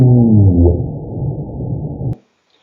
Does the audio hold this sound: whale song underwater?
yes